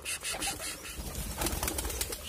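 Pigeons in a loft give soft coos amid bursts of wing flapping and fluttering, close by and busy, with no talking.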